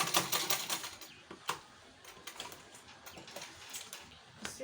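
Sewing machine back stitching a hobo shoulder bag with its lining, a quick series of rhythmic mechanical clatters that pause briefly, then resume in shorter bursts, close and moderately loud.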